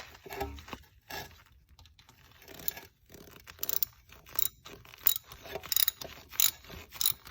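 A ratchet tightens header studs on a BMW E46 M3, giving close, quiet bursts of rapid clicking with pauses between strokes and no talking.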